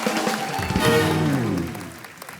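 Studio audience applause on a comedy talk show, a broad clapping wash mixed with music and crowd sound that swells briefly, then gradually thins out.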